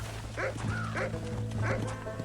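A dog barks in the video game Red Dead Redemption, three sharp, moderately close barks spaced about half a second apart over a steady low hum of game ambience.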